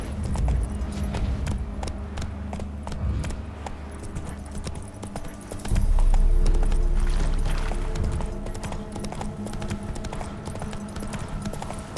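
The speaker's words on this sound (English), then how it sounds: "Run, Roach" Horse hooves clip-clopping at a steady gallop in The Witcher 3: Wild Hunt, a continuous rhythmic pounding with a heavier surge midway, over low game ambience and no talk.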